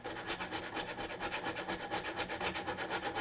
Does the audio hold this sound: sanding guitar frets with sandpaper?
yes